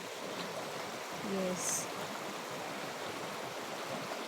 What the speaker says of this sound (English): So here, this river is really tough.